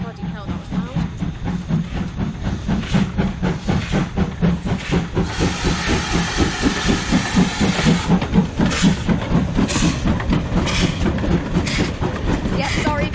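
A steam train at a gala at Barrow Hill Roundhouse, a railway roundhouse, chuffs loudly and rhythmically close by, with strong bursts of hissing steam. People talk over it.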